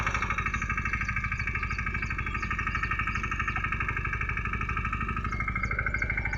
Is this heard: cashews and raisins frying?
no